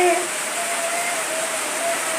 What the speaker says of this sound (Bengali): দেখো সকাল সকাল বৃষ্টি হচ্ছে।